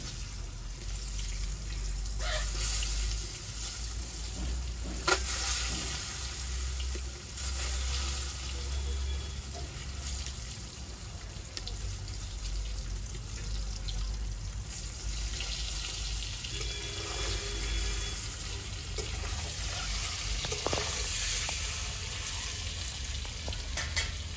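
Eggs crack one by one into a hot pan with spinach, giving a quiet, continuous frying sizzle with soft scrapes and faint water-like hiss over a long stretch.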